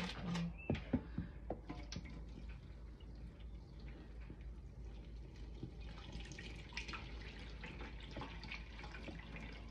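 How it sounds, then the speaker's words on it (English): Water draining from foraged live moss through a sieve, with a few close drips and splashes at the start giving way to a steady soft trickle and light splashing. "Carefully drain the water, making sure the moss doesn't get back, oopsie, in the sieve"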